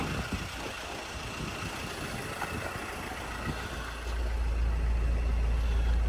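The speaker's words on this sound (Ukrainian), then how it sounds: "мотор працює рівнесенько, гарно" A 2007 Mercedes-Benz Sprinter 215 van engine idles steadily with a low, even rumble, growing a little louder and heavier toward the end.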